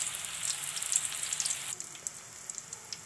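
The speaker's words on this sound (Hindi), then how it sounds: "तो बस हम इतनी अब फ्राई करेंगे।" Chicken koftas frying in hot oil, giving a close, continuous crackling sizzle that is denser in the first half and thins to sparser pops toward the end, with no voices.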